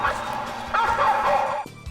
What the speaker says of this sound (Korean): 확성기에서 울려 퍼지는 개 짖는 소리가 몇십 미터는 좋게 떨어진 곳에서도